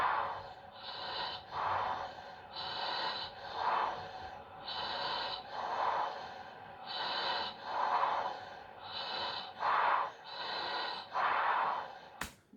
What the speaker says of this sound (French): Là, vous entendez bien la respiration que je suis pas serein